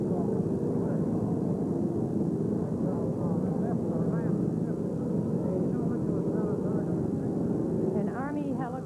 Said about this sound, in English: An Army helicopter has just landed, making a great deal of noise